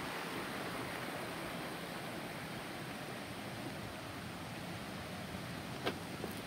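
River water on the Shijimi River above Dondo Dam in the Kakogawa basin rushes in a steady, dense, broadband wash that holds constant throughout, with one brief sharp tick near the end.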